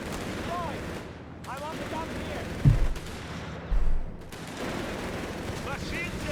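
Mortar shells thudding and bursting in a Company of Heroes 3 match between Wehrmacht and US Forces, two heavier low booms standing out amid steady distant battle gunfire and ambient noise.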